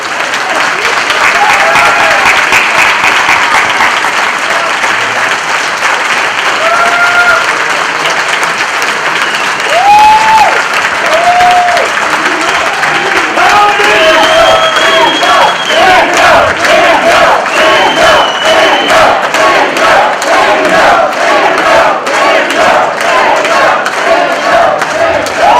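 Loud, sustained audience applause with cheering and whoops filling a hall at an evening civic event honouring three election candidates, continuous clapping throughout with scattered shouts rising over it.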